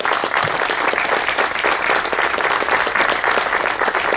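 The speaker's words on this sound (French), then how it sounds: "et on peut l'applaudir." An audience at a ceremony in Pierrefeu bursts into sustained, dense clapping, loud and even across the whole stretch, with no voices rising above it.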